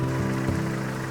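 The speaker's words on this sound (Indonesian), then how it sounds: "Hujan deras dan ya semoga di depan nggak ada apa-apa ya." Heavy rain drums steadily on a vehicle stuck in a total traffic jam among large trucks on a slick road, a dense, continuous patter with a low engine hum beneath.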